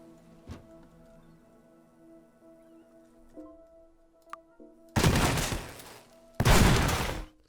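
Gunshots punch holes in a wall in the video game Teardown: two loud, broad crashing bursts, each lasting about a second, following a quiet stretch of steady game hum and a sharp click.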